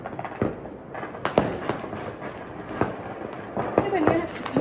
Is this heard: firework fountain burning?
yes